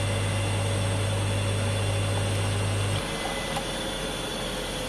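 A washing-machine electric motor being connected runs with a loud, steady mains hum and broadband whir for three seconds, then cuts off, leaving the sound of it winding down.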